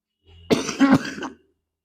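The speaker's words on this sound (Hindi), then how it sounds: "माफ करें भाई, तो खांसी आ रही है।" A close, throaty cough with a rough clearing quality, several quick bursts in one fit, alone in a quiet setting.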